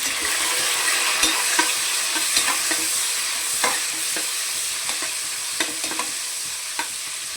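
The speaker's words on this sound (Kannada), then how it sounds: "ಈರುಳ್ಳಿ ಚೆನ್ನಾಗಿ ಫ್ರೈ ಆಗಲಿ." Two medium onions fry in a pan for rice bath, giving a steady sizzle broken by frequent sharp clicks and scrapes of a stirring spoon, close-up and without any talking.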